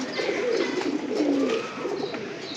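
A pigeon coos nearby in a low, warbling rolling call that swells and fades over a couple of seconds, clear and alone.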